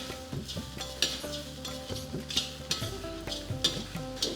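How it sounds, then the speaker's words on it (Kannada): Grated coconut roasting in a pan over low heat for temple-style sambar, with repeated scraping stirs and soft crackle. The spoon clinks against the pan now and then, sounding close, with no voices. "ಆದ್ದರಿಂದ ಕಾಯಿ ಚೆನ್ನಾಗಿ ಹುರಿಬೇಕು ಸಣ್ಣ ಕಾವಲ್ಲಿ"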